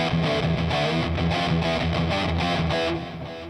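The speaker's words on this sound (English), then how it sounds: "That's a 2-rock Cardiff distortion." An electric guitar plays through a LEKATO PA-1 headphone amp set to its Two-Rock Cardiff distortion, giving loud, thick, saturated chords that ring out and fade near the end.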